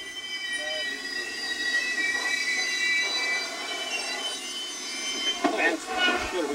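A Canadian passenger train rolls along its tracks through Maine, heard from on board as a steady rumble with faint wheel squeal and tonal hum, plus a few clunks near the end.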